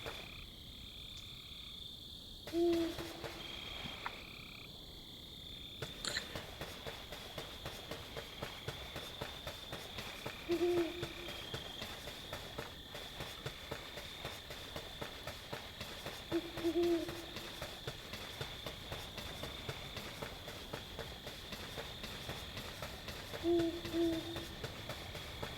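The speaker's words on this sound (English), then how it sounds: "I do hear an owl though, don't I?" An owl hoots in the Death's Door video game, four short, soft hoots spaced several seconds apart over a steady night ambience of insect-like chirring, with no talking.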